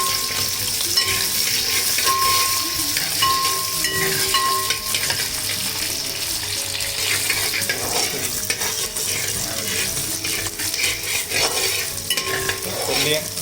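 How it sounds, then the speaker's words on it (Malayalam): Garlic pieces frying in hot oil in a pan while making a green apple pickle, a steady close sizzle with occasional utensil clinks and stirring. "ഇനി ഇതിലേക്ക് നമ്മൾ വെളുത്തുള്ളി ഇടണം കേട്ടോ വെളുത്തുള്ളി കൊടുക്കുക"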